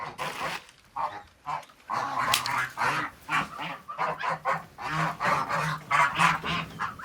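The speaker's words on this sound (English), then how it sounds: "I have some white geese." White geese on a farm honking repeatedly in a loud, irregular chorus of close, overlapping calls, with no talk.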